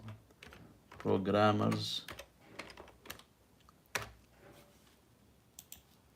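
Light plastic clicks from typing on a computer keyboard, irregular and close, following a short burst of voice near the start.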